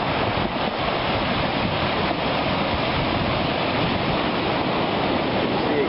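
Ocean waves surge along California's Lost Coast near the pool of Randall Creek, a loud, continuous roaring wash of surf with wind buffeting the microphone, no voices.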